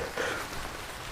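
Steady rain falls on water and the surrounding bank during a fishing outing, a continuous dense hiss of drops with no voices, holding at an even level throughout.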